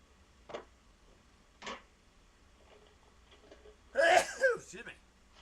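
Two soft throat noises open the recording, followed near the end by a loud, close sneeze with a sharp burst and a trailing breathy release, all from someone in a quiet room.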